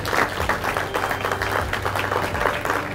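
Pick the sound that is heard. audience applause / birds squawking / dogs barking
audience applause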